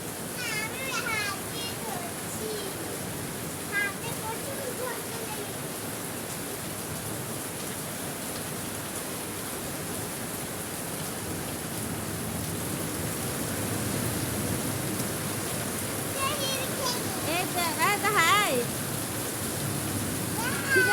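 Heavy night rain pours in a steady, hissing wash with a slight swell near the end, while people and children talk and call out over it.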